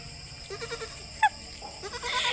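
A young goat bleats in short, wavering calls at close range, with a sharp click partway through and faint background noise between the cries.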